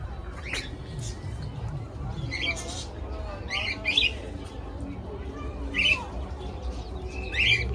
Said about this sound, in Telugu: కాక్టైల్స్.